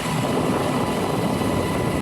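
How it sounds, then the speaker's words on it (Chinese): Helicopter carrying a water bucket flies over a forest fire, a loud steady broadband rotor and engine roar that cuts off abruptly at the end. "直升机来来回回伫咧载水"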